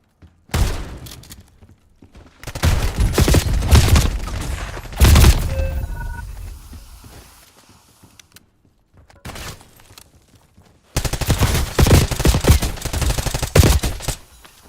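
Automatic gunfire in Black Ops 6 bursts out in loud, dense volleys separated by short lulls, with a final long burst of rapid shots near the end.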